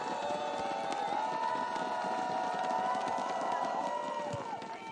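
Brazilian fans cheering at a women's beach volleyball quarter-final, a dense steady roar of crowd voices and shouts at strong volume throughout, with scattered claps and a high whistle-like tone over it.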